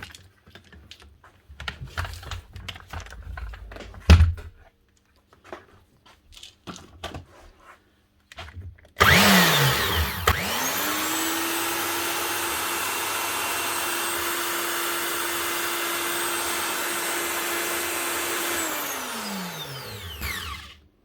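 After some faint clicking and tapping, the motor of a Virutex MC16L door mortiser with new bearings switches on with a loud, steady whine that runs evenly for about ten seconds before spinning down.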